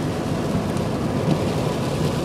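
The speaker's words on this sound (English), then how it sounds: "It is pouring down rain." Heavy rain pours steadily in a dense, even roar with no pauses, loud and close, while faint rumbles run through it and no one speaks.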